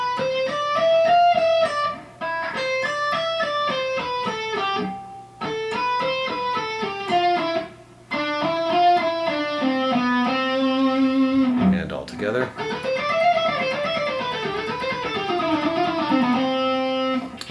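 Part 2 of an alternate picking etude played on electric guitar: fast, even runs of picked notes in continuous phrases with short gaps between them, loud and close, with no voice over the playing.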